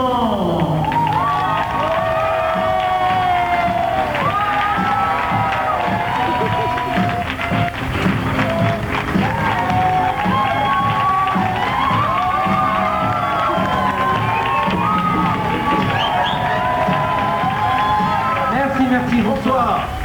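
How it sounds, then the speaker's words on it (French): A studio audience on a French television show set applauds and cheers loudly, with dense sustained clapping, whoops and shouts filling the room continuously, some voices rising above the crowd. "Je vous demande d'applaudir bien fort Michael et Vincent."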